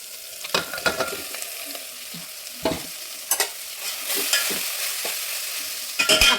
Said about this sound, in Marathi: आता ही भाजी टाकेल